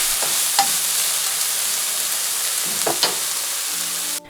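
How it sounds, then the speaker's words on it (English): A dumpling filling fries in a pan with a bright, steady sizzle, punctuated by a few scraping strokes of a spatula as it is stirred, ending abruptly. "I stir from time to time for 3 minutes."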